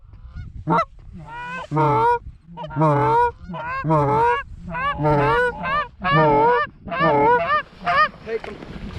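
Canada geese honk loudly and repeatedly overhead during a rainy goose hunt in Nebraska, a dense chorus of nasal calls overlapping in rapid succession, close and clear with no talk.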